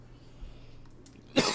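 A single short, loud cough near the end of a quiet stretch, from someone who is congested while playing a puzzle game.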